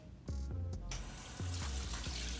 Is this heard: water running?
yes